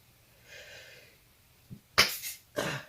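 A person sneezes, preceded by a faint breathy intake and a small catch, then two sharp, forceful bursts in quick succession, close and loud.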